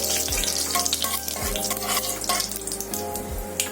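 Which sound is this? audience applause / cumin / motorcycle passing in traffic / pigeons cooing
cumin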